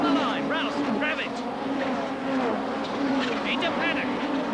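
Touring cars of the 1989 British Touring Car Championship roaring along the Brabham Straight at Brands Hatch, a continuous engine drone with rising whines from passing cars, beneath a commentator talking over it.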